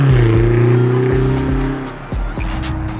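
BMW XM plug-in hybrid V8 under full-throttle acceleration, a loud rising engine roar with quick gear changes breaking the climb, heard from inside the cabin.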